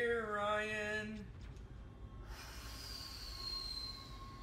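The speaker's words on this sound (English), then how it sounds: "Glorious tram." Tram wheels squeal loudly along rails in the video game Dead Space, with a high-pitched screech and whining tones over a steady rumbling hum of the moving car.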